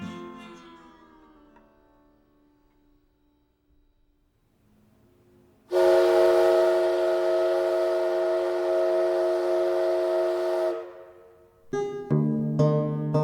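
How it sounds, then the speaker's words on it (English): A steam whistle at the Moweaqua coal mine in 1932 blows one long, loud, steady harmonic blast lasting about five seconds, after a quiet stretch, with some other tonal sounds following. "the whistle blew at the Moweaqua Coal Mine"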